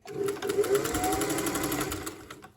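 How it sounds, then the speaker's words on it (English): Sewing machine running a long straight stitch at high tension, a rapid, even mechanical stitching rattle close by, starting and stopping within a couple of seconds. "sewing a long straight stitch, the longest straight stitch I have with the highest tension that I can have on my machine"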